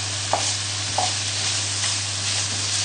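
Smoked bacon sizzles steadily in a pan for a carbonara, a constant broadband crackle with a couple of brief clinks or stirs, with no talking.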